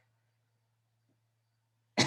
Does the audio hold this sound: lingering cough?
yes